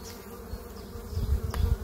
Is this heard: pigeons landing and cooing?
no